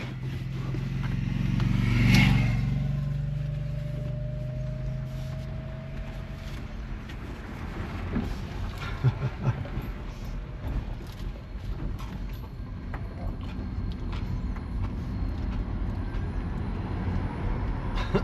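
An EV-swap electric pickup truck pulls away in drive, with a brief rising whine at the start and then a steady, moderate road and drivetrain rumble that carries on underneath.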